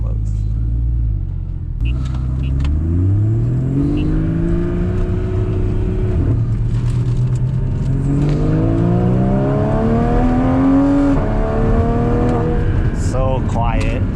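From the cabin of a Porsche 981 with a Soul Performance competition exhaust, valves closed, the engine rumbles up through the gears in long rising pulls with a gear change between them, while a voice talks over the subdued drone.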